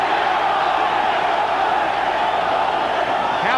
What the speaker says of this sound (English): Crowd chanting for Chavez.